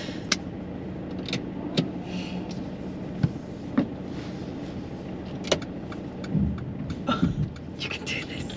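A car moves off on a slope during a driving lesson, a low engine rumble running steadily beneath sharp intermittent clicks and knocks from inside the cabin.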